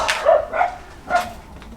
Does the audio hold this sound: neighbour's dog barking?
yes